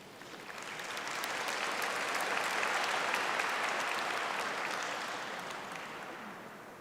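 At a graduation commencement, a large crowd claps for PhD in Business Administration graduates; the applause swells, holds steady and slowly fades, heard from a distance.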